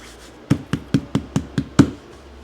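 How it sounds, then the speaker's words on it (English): Wood is chopped for woodblock printmaking in a print shop: seven sharp, close knocks land in an even rhythm, each with a short hollow ring. "let's get chopping some wood"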